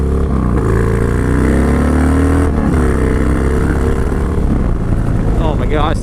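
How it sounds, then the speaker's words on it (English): A Harley-Davidson Dyna Low Rider S motorcycle engine drones loudly and steadily on a first ride, the rumble filling the clip with a rising pitch as it pulls. "First ride ever on a Dyna Lowrider S, and on this bike, which is basically the new bike"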